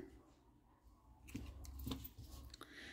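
Scissors snip through knitting yarn at the end of a knooking intarsia piece, giving two or three short, close cuts around the middle of a quiet indoor moment with faint background murmur.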